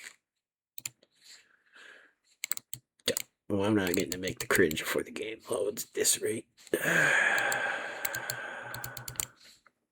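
Computer keyboard keys pressed in scattered clicks and short bursts while someone plays a driving game, with someone talking over part of the typing and a louder stretch of game noise near the end.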